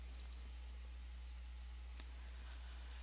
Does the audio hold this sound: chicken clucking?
no